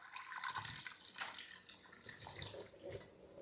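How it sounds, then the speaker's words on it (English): Canned green beans tipped into a pot along with their liquid, giving a steady splashing, gurgling pour that runs for a few seconds with uneven swells and dips in loudness, close by and alone. "So now I'm simply going to put my green beans in, liquid and all."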